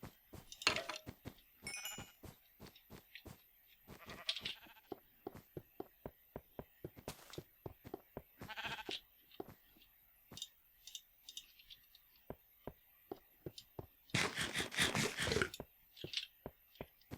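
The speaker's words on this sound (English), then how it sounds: "Of course, there are sheep here." Sheep bleat in a blocky Minecraft-style game, short calls recurring every few seconds over a steady run of quick footstep-like clicks, with one longer, louder bleat burst near the end.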